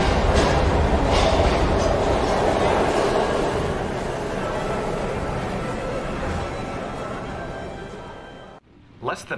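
A train in the video game Heavy Rain rumbles loudly with a dense rolling roar that slowly fades and thins before cutting off abruptly near the end.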